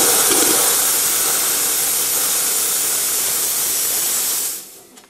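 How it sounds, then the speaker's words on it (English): An espresso machine's steam wand purges water from the boiler in a loud, steady spitting hiss that fills the space and then cuts off abruptly near the end, with no one speaking. "You can hear the water coming out through the steam when it makes that sort of noise."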